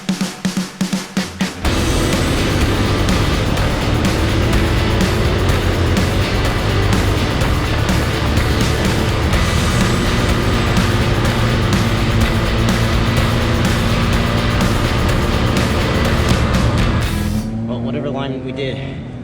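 Formula Hooligan race car lapping in practice, a loud sustained engine roar heard close from onboard, rising and shifting through the run after a few sharp bursts at the start, then dropping away near the end.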